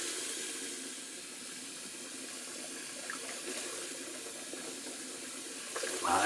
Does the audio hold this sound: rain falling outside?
no